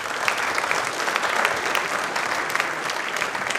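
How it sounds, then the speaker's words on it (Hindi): Loud, sustained clapping from a studio audience at a quiz programme for Ambedkar Jayanti rewards a group of participants, many hands beating in a dense, even crackle close by. "एक बार इस ग्रुप के लिए तालियां प्लीज जोरदार हो जाएं"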